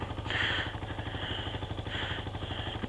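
A 250cc motorcycle engine idling or running steadily with a pulsing, rhythmic thrum and a slight rise in the middle, close by, under a light whine of wind.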